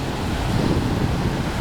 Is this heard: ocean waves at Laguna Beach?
yes